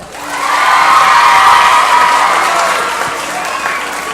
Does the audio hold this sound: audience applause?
yes